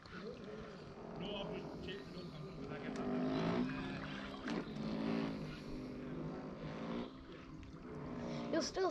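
A small RC model gunboat motor whines steadily near and far over lapping water, with a voice talking over it throughout.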